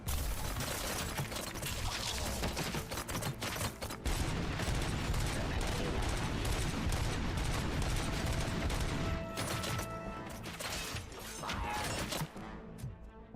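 Gunfire while shooting enemies in the video game Robocop: Rogue City, rapid dense bursts of shots and crashing impacts, loud and continuous, thinning out near the end.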